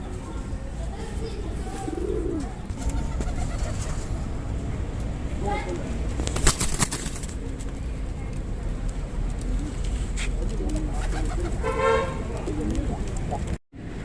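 Madrasi pigeons of the Arshad line coo softly and intermittently in a loft, low rolling calls surfacing now and then over a steady background hum with faint voices.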